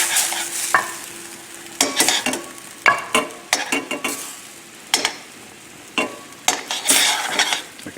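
Sea scallops sauté in a pan with cream and brandy, giving a soft sizzle broken by repeated scraping stirs and clatters of a utensil against the pan, close and uneven in rhythm, with no speech.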